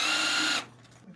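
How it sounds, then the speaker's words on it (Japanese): A power drill boring holes in an old fire hose drones with steady, loud mechanical whirring for about half a second, then cuts off abruptly, leaving quiet room noise. "ドリルで穴を開け"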